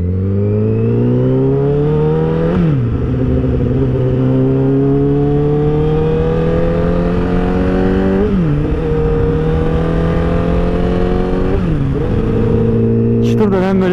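A 2019 Honda CBR 1000 RR motorcycle revving hard through rising gear pulls, with several sharp drops at gear shifts, loud and close throughout, and a rider's speech faintly present.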